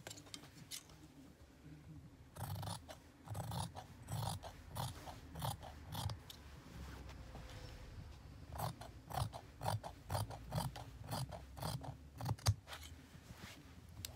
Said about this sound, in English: So now I'm going to cut the neck,